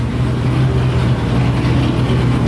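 A steady low idle from an LS3 V8 engine in a Mazda Miata, with a rhythmic, throbbing exhaust pulse, close and continuous with no voices.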